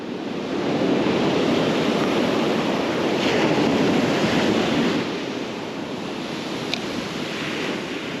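Surf rolling onto a beach during a surf jigging session, a steady broadband wash of breaking waves mixed with wind buffeting the microphone, with a brief faint click near the end.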